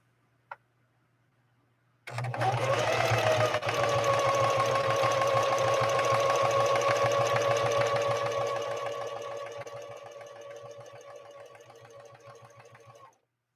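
A Singer 4411 heavy-duty sewing machine stitches a zigzag EKG-style pattern, starting abruptly and running loud and steady for about ten seconds before slowing and stopping; the motor hum and rapid needle ticking are close and alone.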